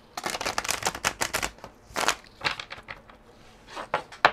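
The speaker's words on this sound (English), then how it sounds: "One more shuffle." Deck of tarot cards being shuffled by hand during a reading, a series of quick papery riffles and slaps in uneven bursts, close and fairly loud with only faint background.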